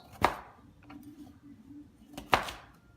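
Two sharp knife chops through fresh sweet potatoes on a board, one near the start and one later, each a crisp close thud separated by quiet low kitchen background.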